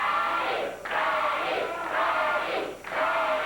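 A 1989 Memphis championship wrestling arena crowd chants and cheers in loud rhythmic waves, swelling in repeated bursts with brief dips between them, filling the hall.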